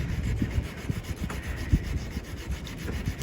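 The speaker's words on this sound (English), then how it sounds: "Wet sanding is the way to go." Sandpaper on a foam block scrubs back and forth over a boat's gel coat during wet sanding, a close, rhythmic rasping with soft gritty strokes and an occasional heavier pass.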